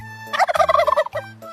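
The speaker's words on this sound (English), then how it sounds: "Hello kids, I'm a turkey." A turkey gobbles in one loud, rapid, warbling burst, heard close and clear over a soft steady music bed.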